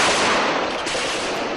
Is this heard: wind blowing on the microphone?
no